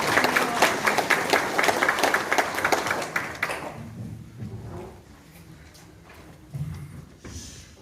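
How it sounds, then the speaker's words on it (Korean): Audience clapping to welcome the head of Gasan Agricultural Cooperative at a local food supplier training session in Pocheon, dense and fairly loud for about three and a half seconds, then dying out into quiet room noise with faint movement. "큰 박수로 맞이해주시기 바랍니다"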